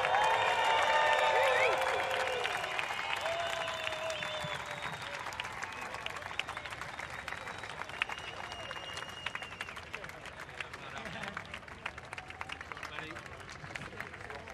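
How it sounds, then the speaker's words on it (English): A beach crowd at a surfing contest claps and cheers for the men's champion, a loud burst that slowly thins into steady scattered applause, with an announcer's voice over it. "Make some noise for your men's champion, Leonardo Fioravanti."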